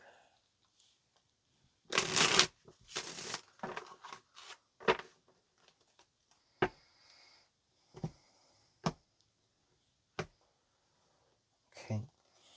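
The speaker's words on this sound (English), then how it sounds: "Let's get one more shuffle and then we'll move forward." Tarot cards are shuffled by hand in a quiet room, a burst of rapid riffling followed by a series of separate sharp slaps and taps as the cards are squared and set down, with no talking.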